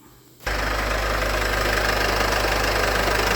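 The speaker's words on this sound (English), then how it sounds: "run the engine through the gears and let it warm up" A Mercedes Vito van engine with an automatic gearbox starts abruptly and settles into a loud, steady idle with a rough, knocking rumble that continues without change while warming up.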